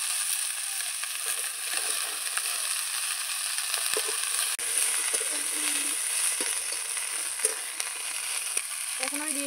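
Chopped taro flowers drop into spiced oil in a pan and fry with a steady, close sizzle and crackle, with a few stirring scrapes and no talking.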